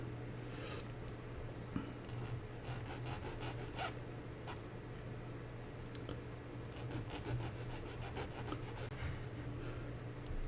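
A small Titanic model part is filed by hand with a file, producing soft rasping strokes in quick repeated bursts, close and fairly quiet over a steady low hum.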